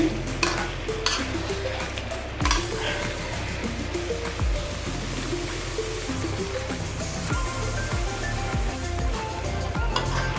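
Shrimp bhuna fries loudly in a pan, with a dense, constant sizzle and repeated stirring scrapes and clatters, heard up close with no talking.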